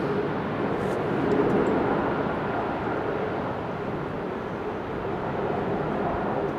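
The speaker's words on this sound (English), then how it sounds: "Singapore Airlines A350" A Singapore Airlines Airbus A350 airliner passes at Amsterdam Schiphol Airport on a windy, showery day, with a steady broad jet roar that swells slightly early on and holds at a moderate distance.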